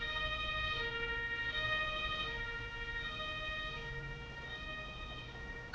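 An ambulance siren from the emergency-services video game Emergency wails steadily and fairly quietly, a continuous electronic tone that rises and falls over the game's background sound, with no talk.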